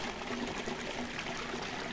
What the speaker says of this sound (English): we are flush it one more time.